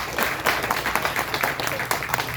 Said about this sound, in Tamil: இப்போது நான் சொன்ன பிறகு இந்த சபை கைதட்டுவதை பார்த்து